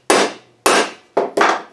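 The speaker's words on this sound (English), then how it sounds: "So I'm just going to mark these and center punch them." Four sharp metallic hammer strikes on a center punch marking metal, close and loud, each ringing briefly before the next; the last two come in quick succession.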